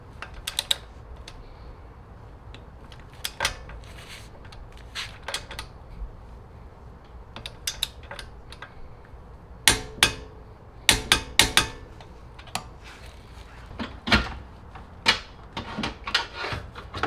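A torque wrench tightens the rear camber arm bolts on a car, producing sharp isolated clicks and ratcheting snaps scattered over a quiet background, growing more frequent toward the end, with no talking.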